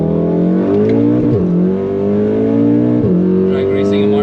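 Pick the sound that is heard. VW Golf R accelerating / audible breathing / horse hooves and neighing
VW Golf R accelerating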